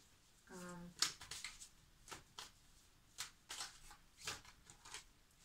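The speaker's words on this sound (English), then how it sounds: "from the Animal Spirit deck, I'm going to draw 2 cards" Cards from an Animal Spirit oracle deck being shuffled and drawn, a brief riffle-like burst followed by several soft, separate flicks and slaps as cards are pulled, with faint talk in the background.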